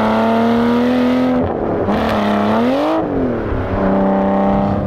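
An Aston Martin Vanquish with a gearbox that occasionally slips out of gear drives under load, its engine droning loudly and close, with pitch dropping and climbing again around gear changes, no talk over it.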